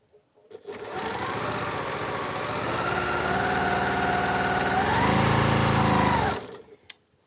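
A sewing machine stitches quilt blocks in one continuous whirring run of several seconds. It starts up, holds a steady mechanical drone, rises slightly in pitch partway through, then stops abruptly. It is close and clear, with no talking.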